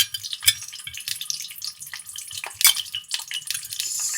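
Pieces of fish fry in hot oil, giving a bright, crackling sizzle with irregular spitting pops, moderately close and continuous with no voices.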